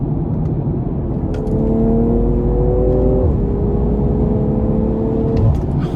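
A 2020 BMW M340i pulling hard under acceleration, its engine drone rising steadily in pitch, dipping briefly at a gear shift and then climbing again, heard from inside the cabin with no talk.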